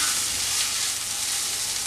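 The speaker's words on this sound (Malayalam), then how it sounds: "ഈ മസാലയുടെ പച്ചമണം മാറുന്നത് വരെ ഇതൊന്ന് മൂപ്പിച്ചെടുക്കാം" Chicken masala frying in a pan, a steady close sizzle and hiss that holds evenly throughout with no pauses.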